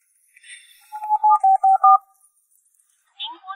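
Telephone keypad tones as a number is dialed, a quick run of short, loud, evenly spaced beeps followed by a pause and another tone.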